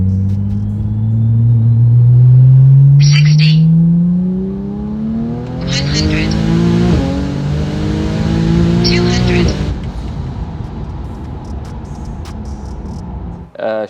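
Heavily modified 1700 bhp Porsche 911 Turbo S pulling hard with manual shifts, engine pitch climbing through the gears in long loud sweeps with brief breaks at each shift, close and dominant, ending in a quieter coast.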